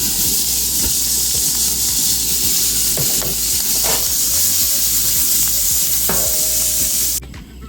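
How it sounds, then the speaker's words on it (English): Food sizzles steadily in a pan over a campsite cookout, a continuous loud frying hiss with occasional stirring scrapes and clinks, ending abruptly near the close. "I'm gonna fry them up."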